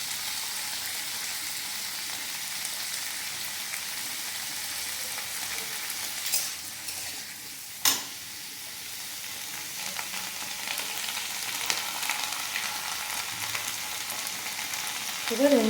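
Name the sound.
green chillies frying in a pan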